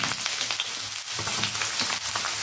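Chopped carrots hitting very hot oil in a pan for street-style veg chowmein, a steady loud crackling sizzle throughout with no talking.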